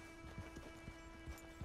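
Horse hooves clip-clop in Red Dead Redemption 2, a quiet irregular patter of hoofbeats under a steady tonal hum of game ambience.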